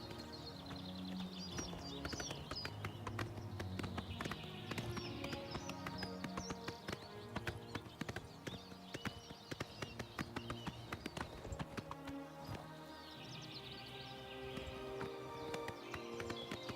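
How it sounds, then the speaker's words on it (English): Hooves clip-clop in a steady galloping rhythm as a horse is ridden in Oblivion Remastered, with occasional whinnies and creaking tack, the rapid beats continuing unbroken and fairly loud throughout. "riding on the horse is a little, like, janky"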